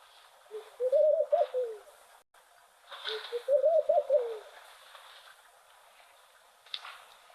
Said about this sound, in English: it's quite a sort of a haunting noise from these doves